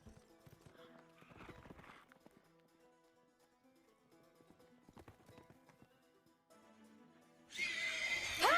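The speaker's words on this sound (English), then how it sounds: "She's really enjoying the horse riding part" Hooves clip-clop at a walking rhythm as a horse is ridden in Attack on Titan, then a loud neigh breaks out near the end over quiet background music.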